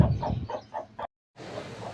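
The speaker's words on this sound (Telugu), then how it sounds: "వీడియోలో చూస్తుంది గరుడ గరుడుమైల పుంజు" A Garuda-breed Bhimavaram rooster about fourteen months old gives a short series of rhythmic clucks up close, then falls briefly silent before a softer rustle resumes.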